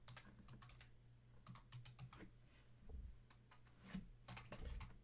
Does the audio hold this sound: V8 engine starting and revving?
no